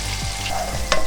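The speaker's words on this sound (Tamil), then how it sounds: "வெங்காயம் நல்லா ஃப்ரை பண்ணிக்கலாம்." A long-sliced onion fries in oil with asafoetida and curry leaves, giving a close, steady sizzle with faint stirring scrapes and one brighter crackle near the end.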